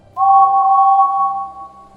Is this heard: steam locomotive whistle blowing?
yes